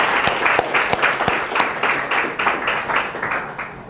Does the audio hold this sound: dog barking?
no